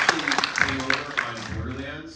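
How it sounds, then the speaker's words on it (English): Audience applause for cinematographer Milan Chadima at a film Q&A with a director, a short burst of clapping mixed under someone talking. "we applaud Milan"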